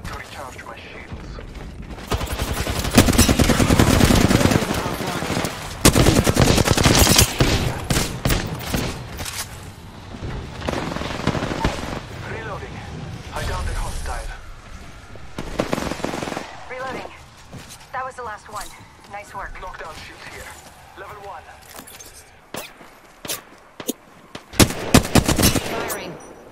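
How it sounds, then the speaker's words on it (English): Gunfire in the video game Apex Legends rattles in loud bursts of rapid automatic shots, swelling and dropping with brief pauses and scattered clicks, dense at first and sparser later. "They spotted me. I'm taking shots."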